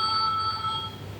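A telephone rings with steady, sustained electronic tones, fairly close and continuous over a faint low background rumble, with no one talking.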